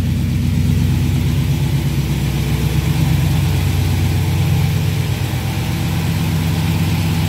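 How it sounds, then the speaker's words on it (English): A 1955 Studebaker short-bed truck engine idles steadily after a cold start, a loud, continuous low rumble with an even, unbroken throb and no voices. "Engine starts right up."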